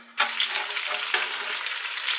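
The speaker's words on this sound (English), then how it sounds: "scrape up all this brown from inside the cooking pot and add that to the pot" Browned bits scraped from the bottom of a cooking pot burst into a loud, close sizzle that continues steadily, with stirring and scraping textures, while making Caribbean-style pineapple chicken.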